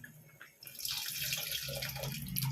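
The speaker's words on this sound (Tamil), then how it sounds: "புளி ஊற்றிடலாம்." Tamarind water pours steadily into a pot of boiling sambar with a splashing, trickling sound after a brief quiet start.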